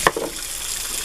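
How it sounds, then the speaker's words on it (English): A scrubbing sponge is wrung out by hand, giving a brief squelch followed by a soft wet trickle of water draining away. "Okay, just wring it out."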